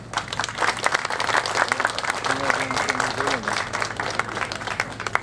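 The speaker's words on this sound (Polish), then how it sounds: "Brawa dla nich!" Festival audience applauds a folk band at an outdoor summer festival, with steady clapping throughout and a few voices and faint music rising beneath it.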